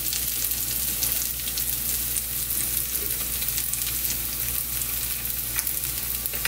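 Takoyaki batter with octopus fries in oil in a home takoyaki pan, giving a dense, even crackling sizzle that continues steadily throughout, close and moderately loud with no talking.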